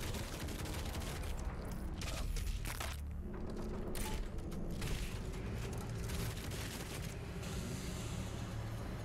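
Weapon fire in the first-person shooter DOOM Eternal comes as dense, continuous bursts of booming shots and mechanical clatter, loud and unbroken for several seconds with no speech.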